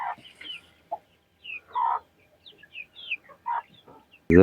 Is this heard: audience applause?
no